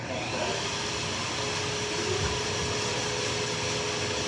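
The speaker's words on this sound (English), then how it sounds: "don't mind the noise, that's just the wood shop" Steady broadband roar fills a wood shop where people work on projects, a constant whooshing drone like a dust collector or machinery running throughout, with faint tonal hum and no voices.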